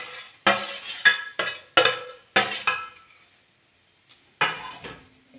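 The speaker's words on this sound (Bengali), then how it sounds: "কড়াতে নারকেলটা দিয়ে দেবো।" Grated coconut tipped into a kadai on a gas stove, a series of sharp metallic scrapes and clinks from a spoon against the pan in quick bursts, then a pause and one more scrape, close and clear with no talk.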